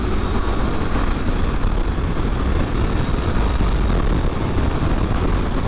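Steady, dense engine and wind roar from a Suzuki GSX-8R motorcycle cruising in top gear on the road at about 4,000 RPM, loud and constant with no talk.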